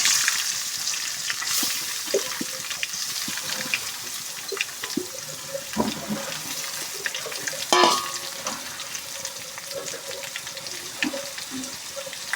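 Mung dal hits hot oil in a pan and fries with a steady, close sizzle and hiss. Scraping and stirring knocks sound now and then through it.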